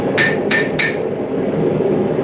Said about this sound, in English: So yeah, now the anvil sounds like a proper anvil.